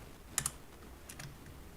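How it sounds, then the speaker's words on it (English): Typing on a computer keyboard while writing code for a neural network in a C++ library: a few sharp, quiet key clicks in two small bursts over a faint room hiss, with no talk. "typing my function"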